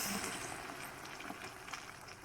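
Tomato sauce juice sizzles on golden fried bread, a steady, soft hiss with small crackling pops throughout, close and fairly quiet, with no talking.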